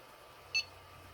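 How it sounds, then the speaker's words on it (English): A 3D printer gives a single short electronic beep on filament run-out, clear and brief, over a quiet steady hum. "It will beep, informing you to put the new filament in."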